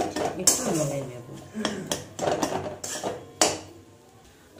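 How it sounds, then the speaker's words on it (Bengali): Prawn and potato filling stirred in a pan, with a series of sharp metallic clanks and scrapes of a spoon against the pan at an uneven rhythm, close and fairly loud, followed by a quieter stretch near the end. "এটা আরও 2-3 মিনিট একটু নেড়ে নেব"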